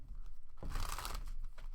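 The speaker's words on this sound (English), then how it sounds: "One more shuffle." A deck of oracle cards being shuffled close by, a soft papery riffle and crinkle that swells in the middle and runs for under two seconds with no talking.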